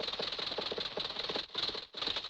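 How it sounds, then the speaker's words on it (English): Cartoon truck engine being raced, a fast rattling, chattering engine drone with a sharp hissing edge that runs steadily throughout and briefly dips twice near the end. "as Rocky raced the engine of the truck, the exhaust acted like a tiny jet"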